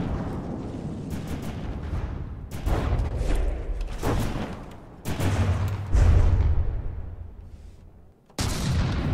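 Ship guns fire shells during a naval battle in the game From The Depths: deep, booming blasts arrive in several heavy bursts separated by short gaps, each loud report followed by a rumbling tail.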